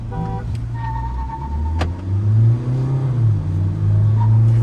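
A Mahindra Scorpio N and a Mahindra XUV700 manual rev and accelerate side by side in a drag race, a loud, rising low rumble building steadily over several seconds.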